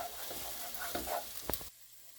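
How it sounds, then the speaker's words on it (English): Butternut squash soup ingredients cook in a pot with a soft close sizzle, light stirring scrapes and a couple of sharp clinks before the sound cuts to near silence. "I'm just going to give that a stir and let it cook for about 1 to 2 minutes."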